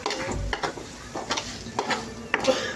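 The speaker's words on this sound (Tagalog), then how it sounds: "Lalagay na natin dito yung corned beef." Corned beef is stirred in a frying pan with a light sizzle and repeated scraping strokes of a utensil against the pan, close and fairly loud.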